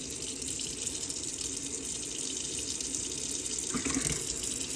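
Cold water runs steadily from a tap in a 2019 Adria Sunliving caravan, a constant close hiss and splash into the sink, with a slight shift near the end.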